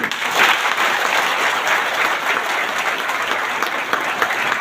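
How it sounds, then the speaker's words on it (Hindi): Sustained, loud audience applause at a village watchmen's convention in India, steady and dense clapping from a large crowd throughout with no talk over it. "तो मित्रों, एक तालियां जोरदार अनूप त्रिपाठी के लिए"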